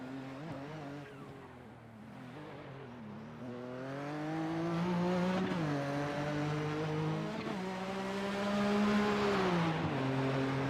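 Race car lapping Silverstone in the iRacing sim, its engine a continuous loud whine that climbs and drops in pitch through gear changes and braking, growing louder toward the end, with no talking.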